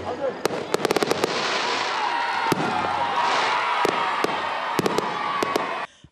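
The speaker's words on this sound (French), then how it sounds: "Les feux d'artifice illuminent le ciel d'Odiéné" New Year's midnight fireworks over Odienne, Ivory Coast, at the turn from 2021 to 2022: a series of sharp bangs and cracks, some in quick clusters, above a steady wash of crowd noise and a speaking voice.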